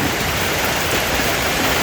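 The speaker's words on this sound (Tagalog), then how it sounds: "Nabutan naman ng ulan." Steady, dense rain pours on a hut, a continuous hiss close by with no pauses and no voices.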